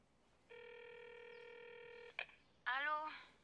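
Nokia cell phone dialing tones in the video game Onimusha 3: a steady multi-tone beep for about a second and a half, a brief blip, then a warbling ringing burst, clear and up close with no talk.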